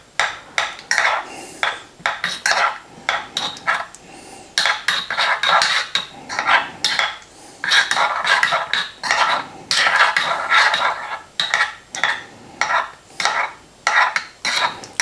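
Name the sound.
teaspoon stirring chocolate into espresso in a cup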